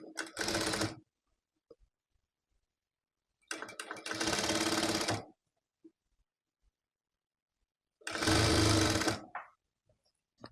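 Three separate close bursts of sewing machine stitching along the armhole of a blue baby jumpsuit, each lasting one to two seconds, with near silence and faint clicks between.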